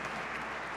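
Audience at a Mississauga election candidates' debate applauding the NDP candidate, a short burst of even, moderate clapping from the room.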